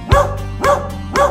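Three evenly spaced barks from a cartoon dog, bright and close on the beat over the steady backing music of a Polish children's song about a farmer's dog.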